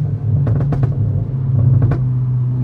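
A Polo R WRC with a 400 hp Stage 2+ tuned engine holds a steady, loud low drone close by, with a few short rasping bursts on top and no clear rise in pitch.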